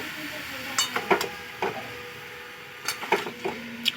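Pumpkin pieces stirred with salt and turmeric in a pan, a series of close, sharp spatula scrapes and knocks against the pan in irregular bursts over a faint background hiss.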